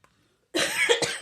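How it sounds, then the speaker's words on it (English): After a moment of silence, one sharp, close cough bursts out, with a short second hack at the end. "don't cough in the camera"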